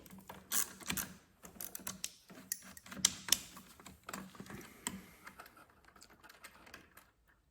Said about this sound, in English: I always start by removing the negative of the battery. So it's an 8mm socket to do that job.